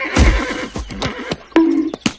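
A horse whinnies loudly up close, Black Wind, Mulan's black horse from the 2020 live-action film, giving a shaky neigh followed by a few shorter snorting calls.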